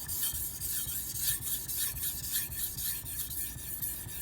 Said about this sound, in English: I'm going to sharpen as well as thin on all 3 stones.